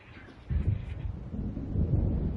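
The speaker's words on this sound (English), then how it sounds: "It seems there's a storm coming." Thunder from an approaching storm in Alan Wake Remastered, a low rolling rumble that swells and grows heavier, fairly distant and continuous.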